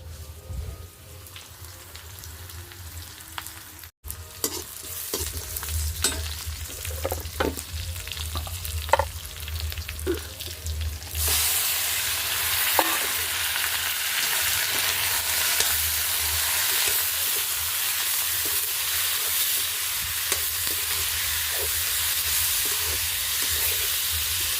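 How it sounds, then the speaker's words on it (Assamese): Meat fries in a pan over a hot wood fire, a steady loud sizzle and hiss with stirring clatters early on, growing denser and more uniform halfway through. "গৰম বেছি মানে জুইত তাপ পাই মাংসখিনি বেছি ভাজা গ'ল"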